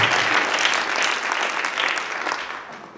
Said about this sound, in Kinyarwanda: Nimwikomera amashyi